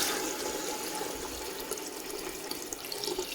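About two litres of water pour into a pot for kebsa sauce, a steady, close, rushing splash with no pauses.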